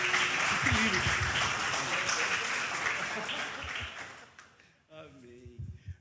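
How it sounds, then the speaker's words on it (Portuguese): A church congregation applauds with dense, sustained clapping for about four seconds, tapering off, followed by a voice speaking near the end. "Você pode aplaudir o Senhor para a vida do pastor?"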